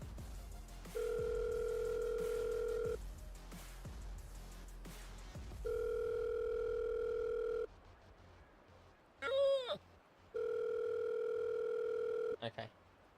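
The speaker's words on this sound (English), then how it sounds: "How long do we leave this dial tone?" Telephone dial tone in a role-play video game; three steady, sustained tone bursts of about two seconds each, separated by gaps, with brief electronic chirps between them.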